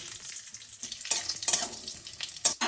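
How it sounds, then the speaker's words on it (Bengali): Bay leaf, dried chillies and whole cumin hit hot oil, giving a fairly quiet crackling sizzle with a few sharp pops and spits, no voices. "এখানে ফোড়নে দিয়ে দেবো তেজপাতা শুকনো লঙ্কা গোটা জিরে"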